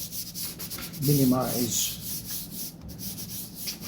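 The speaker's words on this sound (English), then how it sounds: "We are slightly sanding with 400" Light hand sanding of a stained, shellacked wooden table surface with 400 grit sandpaper before French polishing, a soft steady rubbing scrape close by, with a brief louder stroke near the start.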